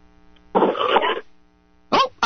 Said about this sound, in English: I heard some coughing or something.